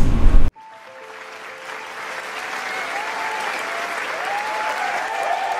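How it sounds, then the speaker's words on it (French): An audience applauds at a cryptocurrency investment presentation. After a brief loud burst, a steady crowd clapping swells gradually and stays sustained and fairly loud, with excited voices and whoops rising over it. "Applaudissez, applaudissez, applaudissez, applaudissez, applaudissez."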